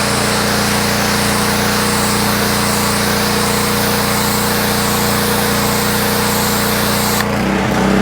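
A gas pressure washer runs steadily through a 15-degree nozzle, spraying black residue off a deck or driveway surface. The engine drone and hiss stay loud and constant, then cut off abruptly near the end.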